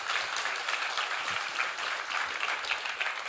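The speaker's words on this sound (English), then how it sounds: "give a big round of applause" Conference crowd applause at ETHGlobal Prague fills the room as a continuous, moderately distant wash of many hands clapping, steady from start to finish.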